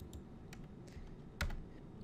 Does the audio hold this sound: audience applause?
no